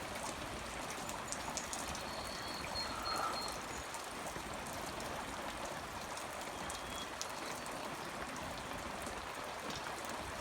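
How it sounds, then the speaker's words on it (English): Light rain patters down outdoors over a cattle pasture, a soft continuous hiss of fine drops with tiny scattered ticks. It stays even and gentle throughout, with no voices, and a faint distant bird note surfaces briefly. "Just a light rain for now."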